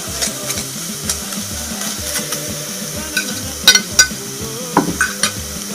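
Beef, ginger and onions sizzle steadily in a stir-fry pan, with scraping stirs and occasional clacks of a utensil against the pan, close and continuous.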